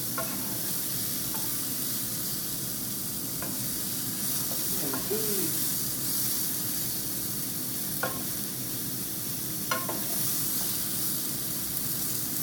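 Garlic, onions and meatballs frying in about a tablespoon of oil in a Scanpan give a steady, close sizzle and hiss, broken by a few faint stirring clicks and scrapes.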